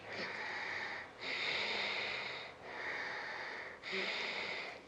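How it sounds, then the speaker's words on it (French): Slow yoga breathing in through the nose, braked at the throat into a steady hissing rush that swells and fades in long cycles, close and alone. "On va inspirer par le nez et on va freiner, pas avec le nez, mais avec la gorge."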